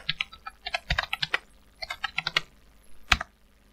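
Keystrokes on a computer keyboard entering a Django command, close and distinct, in two quick bursts of clicks with a pause between and a final single sharp key press.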